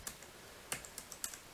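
Isolated keystrokes on the keyboard of an Asus EeePC touchscreen laptop with some keys not working: about six or seven light, crisp clicks in an uneven rhythm, close and quiet, with no talking.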